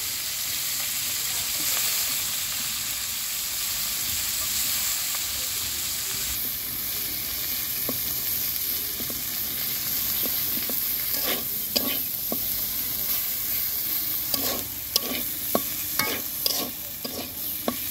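Onions and green chillies frying in a pan with fish and garlic give a constant sizzling hiss, joined later by repeated sharp scrapes and clicks of a spatula stirring against the pan.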